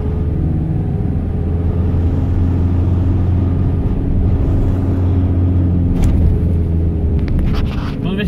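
A 2001 Toyota Hilux with a 2.8 engine drives through the streets of Sinop, its loud, steady in-cabin rumble running throughout, with a few brief rattles and knocks near the end.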